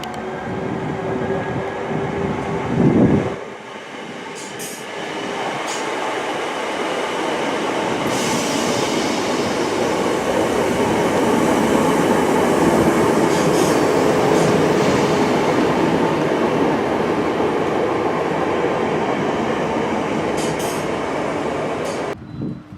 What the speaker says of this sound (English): Next out, 319 380 with a service to Preston. I think this is my train out of Preston.